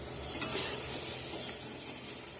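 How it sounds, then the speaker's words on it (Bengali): Pieces of katla fish fry in a pan with a steady, close sizzle and crackle that holds for a couple of seconds, joined by faint stirring. "কাটলে বিসিগুলো ভাজা করে নিচ্ছি,"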